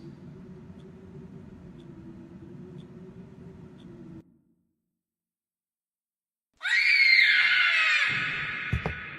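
A child's scream from the horror game The Joy of Creation Story Mode bursts in loud and shrill after a low rumbling drone and a stretch of silence, then cuts off abruptly.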